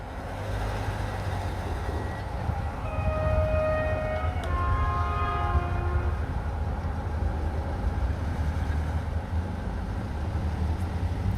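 Regional passenger train passing on the Bydgoszcz–Olsztyn line, a steady rumbling roar of wheels on track with a multi-tone horn sounding briefly midway, heard from beside the line.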